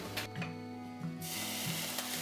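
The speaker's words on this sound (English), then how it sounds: "fry the blended ingredients first for about 2 minutes" Blended chili paste ingredients hit hot oil in a pan and sizzle, starting with a few stirring scrapes and swelling into a loud, steady frying hiss.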